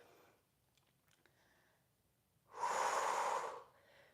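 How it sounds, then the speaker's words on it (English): Steady breathing during a live Pilates workout: faint soft breaths early, then one loud, long exhale of about a second through the mouth, alone with no talk. "Breathing in through the nose and out through the mouth."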